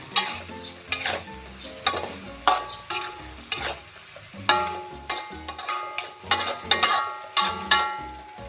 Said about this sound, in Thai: ใส่ใบโหระพาลงไปเลยนะคะ ผัดให้เข้ากัน